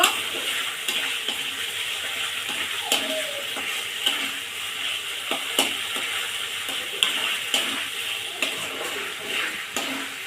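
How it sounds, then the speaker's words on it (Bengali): Katla fish pieces stirred and fried in a masala, a steady sizzle broken by repeated scraping and clinking of a spatula against the pot, close and continuous with no voices. "এবার মাছগুলো ছেড়ে দেব মাছগুলো দিয়ে একটু নেড়ে চেড়ে কষিয়ে নেব"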